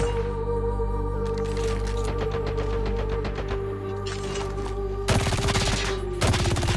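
Rapid, rattling automatic gunfire from a gun with submachine-gun fire rate in Call of Duty fires in long sustained bursts, with two sharper, louder bursts near the end.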